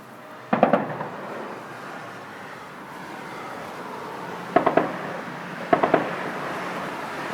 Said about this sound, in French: c'est des tirs à l'arme lourde